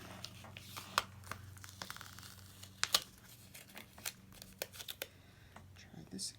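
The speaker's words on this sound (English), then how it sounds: "start the box off with a very crooked sticker" Planner sticker peeled from its backing sheet and placed on a page, a run of light crinkly peeling and soft tapping sounds, close and quiet.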